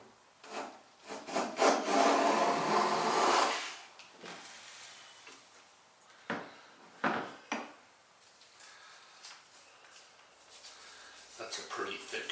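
A Stanley No 62 low angle jack plane shaves wood in long, rasping strokes, the loudest pass early on followed by shorter scrapes and clunks, with a voice talking over parts of it.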